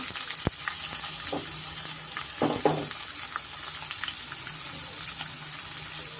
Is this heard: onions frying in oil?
yes